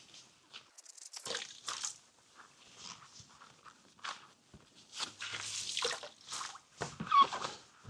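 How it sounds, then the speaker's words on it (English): A sponge presses water out of leftover recycled paper pulp in a mould, giving close, uneven wet squelches and drips in short bursts with quiet gaps between. "I'm going to give it a bit of a sponge"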